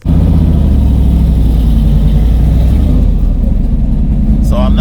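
A 50-year-old Buick with a 780 horsepower engine running on race gas roars loud and close, its deep steady rumble holding throughout with a slight rise near the end.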